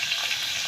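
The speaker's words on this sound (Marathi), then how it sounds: "आता छान मिक्स करते टमॅटो" Tomatoes being stirred in a hot frying pan, a brief close sizzle and crackle of frying with light scraping, no talk.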